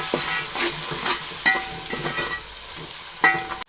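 Spices including red chili powder and turmeric are stirred in a sizzling pan, with steady frying hiss and a few distinct scraping strokes of a spoon against the metal, close and clear.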